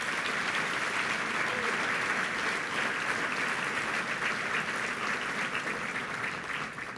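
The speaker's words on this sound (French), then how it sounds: "Applaudissons-les ensemble." Steady applause from a large audience of several hundred people at a Quebec gathering, honouring volunteers and organizers; continuous dense clapping at an even level throughout, fading slightly at the very end.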